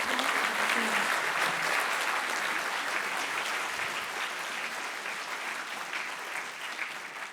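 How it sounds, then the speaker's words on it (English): A conference audience breaks into sustained applause after a speaker at a design challenge event. The dense clapping fills the room and fades slightly toward the end. "Please give a round of applause."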